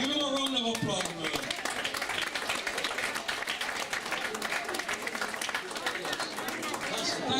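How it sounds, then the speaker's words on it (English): A party crowd in Bestwood breaks into a sustained round of applause, dense steady clapping from many hands after a short burst of speech, with chatter running underneath. "give him a round of applause"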